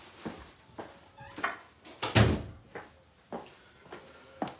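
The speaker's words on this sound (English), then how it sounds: "let me close the door" A door being closed indoors, with a series of wooden knocks and clunks, one louder thud in the middle, spaced irregularly and close by, with no talking over it.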